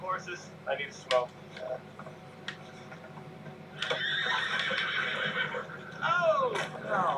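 A horse whinnies in the video game Red Dead Redemption 2 with a drawn-out, wavering call, and a second neigh rises near the end, over low background rumble and scattered sounds.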